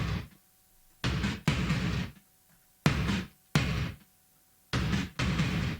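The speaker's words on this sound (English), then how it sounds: "So if I just play you the gated drums" Gated reverb on drums, the 1980s production effect: loud, booming hits with a short reverberant tail that each cut off abruptly into silence, in an uneven pattern of single and paired bursts.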